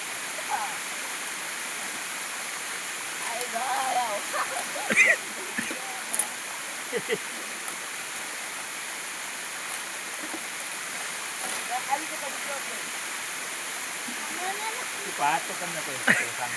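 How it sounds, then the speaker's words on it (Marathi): Water is splashed in short, scattered bursts during crab catching with traps, set over a constant rushing water background and faint voices nearby. "हा पाणी पाणी उडवतोय"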